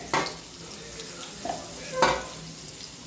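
Masala stuffing for bharli karli, stuffed bitter gourd, fries in oil in a pan, a steady close sizzle broken by three sharper scrapes of stirring.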